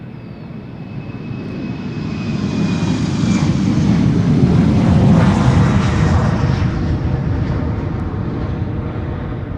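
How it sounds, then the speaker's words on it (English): A KLM Embraer 190 jet airliner, registration PH-EZE, at Schiphol Airport gives a steady broadband engine roar that swells to a peak midway and then slowly fades, heard alone with no voices. "Embraer 190 to Glasgow up first, KLM flight 939"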